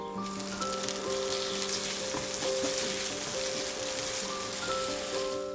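Ground pork sizzles steadily in a hot pan with chili garlic paste for a Thai holy basil stir fry, a dense, even crackle with faint tonal hum underneath and no voices.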